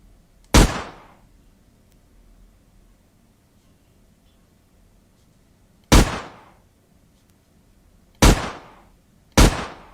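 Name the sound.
gunshot sound effect in a game being developed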